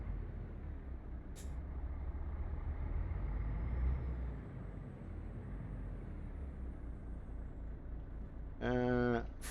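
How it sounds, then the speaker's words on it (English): The low engine rumble of a truck in Euro Truck Simulator 2 drones steadily and fairly quietly, with a hiss like an air brake partway through and a short burst of voice near the end. "It's just got a really, really good old sound, this truck."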